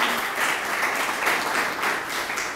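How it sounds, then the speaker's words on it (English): An audience at a city meeting on an immigrant inclusion plan gives a steady burst of applause, a dense even wash of many hands clapping indoors that holds for a few seconds without talking. "So an applause for her, please."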